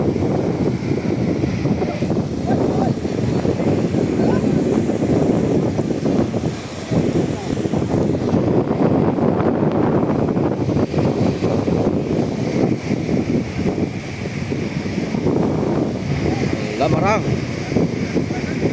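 Strong, steady wind after a typhoon roars across the shore at Dinahican, Infanta, Quezon, with a constant rush, waves faintly beneath, while someone talks over it throughout.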